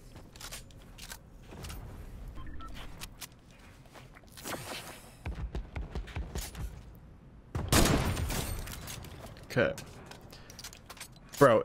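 Scattered gunshots and firefight bursts in the video game Fortnite, irregular sharp cracks with a louder cluster midway, mixed with footsteps and game noise while a person talks.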